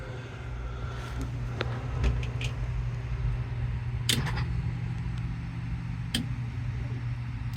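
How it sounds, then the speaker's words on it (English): Electronic throttle body self-test on an LS swap engine in a 1994 OBS truck, a steady low electrical hum with scattered short mechanical clicks and ticks, close and moderately loud, no voices. "Now let's see if we get a throttle body test."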